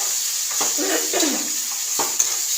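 Soybean and potato curry with chilli powder being sautéed and stirred in a pan, a soft steady sizzle with several scraping stir strokes and a small utensil clink, no talking.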